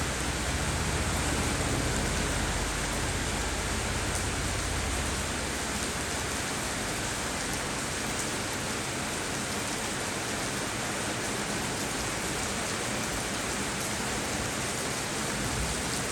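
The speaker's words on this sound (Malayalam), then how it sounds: "ചെറിയൊരു ഭൂമിക്കൊരു ആശ്വാസം എന്ന രീതിയിൽ ചെറിയൊരു മഴ ഇപ്പോൾ പെയ്തിരിക്കുകയാണ്" Light rain falls on green leaves, a steady, even hiss of drops that holds unchanged throughout with no voices.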